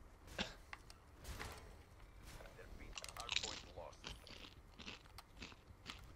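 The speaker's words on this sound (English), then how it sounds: "I'm eating Doritos." Doritos nacho chips bitten and chewed close to the mic, with quiet repeated crunches and chewing under faint voices talking.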